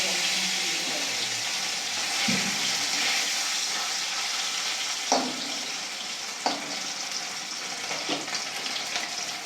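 Bata fish fry in hot oil in a wok, a loud continuous sizzling hiss close up with a few occasional clanks and bumps as the pieces go in and are moved.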